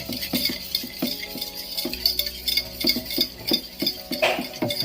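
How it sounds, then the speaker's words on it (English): A utensil stirs sweet potato broth cooking with sunflower oil in a pan, giving soft, quiet scraping and light clinks in an uneven rhythm, close up with no talking. "Keep stirring. Don't let it curdle."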